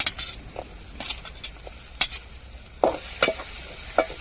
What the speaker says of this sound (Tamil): இப்போ மிளகாவையும் பாவக்காயும் நம்ம சேர்த்துருவோம்